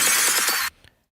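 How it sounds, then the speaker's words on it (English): Glass break impact sound effect, a sharp bright shatter that holds for about half a second, then cuts off with a faint clink or two of falling fragments. "then glass break impact."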